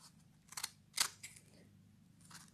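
Scissors snip coffee filter paper into small strips: a few sharp, quiet cutting clicks spaced apart, with one crisper snip standing out, in an otherwise hushed room.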